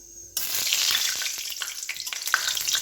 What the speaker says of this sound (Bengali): এবার কড়াইয়ে তেল আর শুকনো লঙ্কা দিয়েছি, আর 1 চামচ চিনি দিয়েছি।